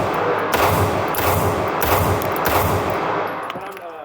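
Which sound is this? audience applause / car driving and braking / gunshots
gunshots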